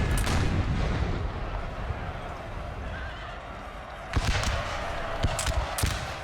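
Artillery fire in the Napoleon: Total War video game, a few dull booms heard faintly under a dense battlefield mix of horses whinnying, hooves and general noise.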